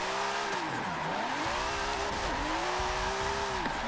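James Dean's car drifting in Forza Motorsport 7, its engine rising and falling through sweeping revs over a continuous loud tire squeal as it slides.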